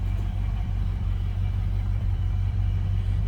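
A 1978 Pontiac Trans Am engine idles after a cold start, a steady, loud, low rumble with a faint regular pulse and no revving.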